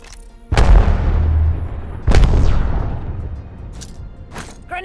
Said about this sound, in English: Flinging thermite. Tossing thermite. Arc star out. Flinging an arc star.